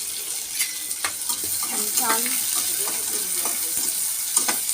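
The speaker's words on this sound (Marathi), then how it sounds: "चांगला परतून घेऊ कांदा।" Finely chopped onion sautés in a pan for a stuffed chili curry, with a steady soft sizzle and scraping stir strokes near the microphone; a voice briefly speaks over it.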